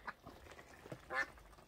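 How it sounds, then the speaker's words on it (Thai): Ducks raised on a small farm abroad give a few soft, scattered quacks, faint and somewhat distant, with a slightly louder call near the end. "นี่ล่ะจ้าเลี้ยงเป็ดอยู่เมืองนอก"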